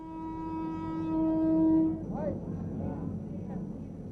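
Charminar Express passenger train on an overnight run toward Chennai, a loud sustained horn blast over the low rumble of the rolling train, with a voice speaking over the rail noise afterward.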